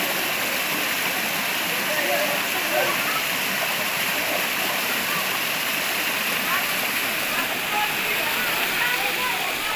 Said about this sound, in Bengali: দেখুন সুন্দর জল যাচ্ছে